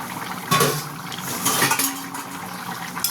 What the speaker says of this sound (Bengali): এবার ঢাকাটা সরাবো।